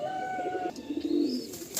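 Madrasi pigeons give a short burst of soft, rolling coos nearby, a few low throaty notes in quick succession with no talking over them.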